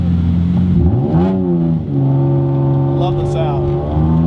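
A 1991 Ford Taurus SHO engine revs hard during a city drive in downtown Toronto, loud and close, its pitch sweeping up and falling back in several rising pulls.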